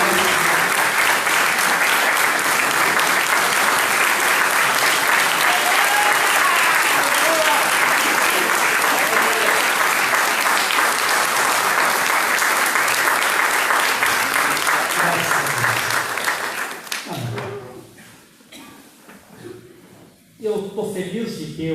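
A church congregation gives a long, loud round of applause that fills the room, then fades out, with a few claps and voices trailing at the end.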